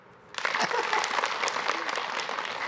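Audience applause at an Islamic religious talk, a burst of dense clapping that starts abruptly and keeps up steadily, moderately loud and fairly close, with a voice briefly audible underneath.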